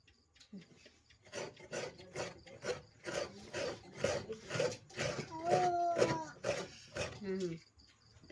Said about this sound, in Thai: แล้วจะมาขูดมะพร้าวเลยเนาะทุกคนเนาะ